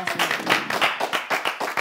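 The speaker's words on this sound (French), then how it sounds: "Il faut que je t'applaudisse" A small group claps in a brisk, even rhythm on a French business talk show, close and fairly loud, with no voices over it for under two seconds.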